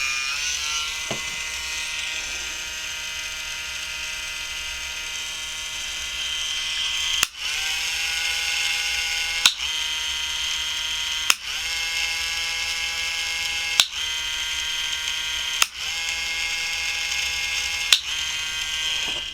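A small electric motor in a sonic-controlled robot whirs steadily and loudly, its tone stepping with sharp clicks at regular intervals while it runs continuously.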